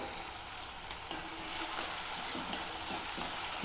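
Crushed onion, green chili and garlic fry in a hot pan, a steady sizzle with a couple of brief stirring scrapes.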